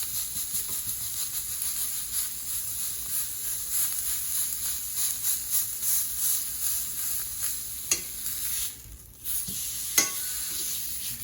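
Sandwich patties cooking in a pan, a steady, bright sizzle with faint crackles and a few stirring sounds, briefly dipping near the end before returning.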